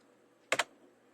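Two quick keystrokes on a computer keyboard, sharp and close against a quiet background, the first slightly louder than the second.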